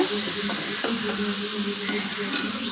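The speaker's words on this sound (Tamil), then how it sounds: "நல்லா பூண்டு ஃப்ளேவர் வந்து நல்லா ஃப்ரை ஆகணுங்க" Garlic frying in a pan with chili coriander paste for an egg palak curry, a soft steady sizzle with occasional stirring scrapes and light clinks of a utensil against the pan.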